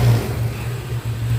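Yamaha Mio carbureted scooter engine held at steady throttle, a loud continuous low drone with a slight dip near the end, close by and with no talking.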